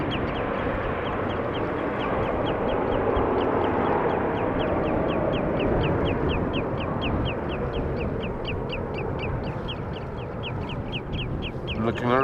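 A bird gives a long series of rapid, evenly spaced harsh calls near Schiphol Airport, repeating steadily for the whole stretch over a loud rumbling background of airport noise.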